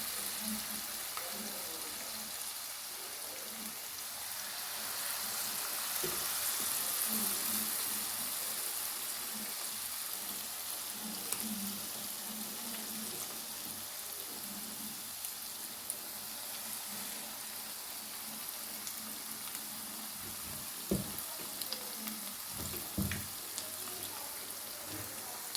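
Banana fritters (pazham pori) frying in hot oil, a steady close sizzle with soft bubbling that runs the whole time, plus a few brief clicks and knocks near the end.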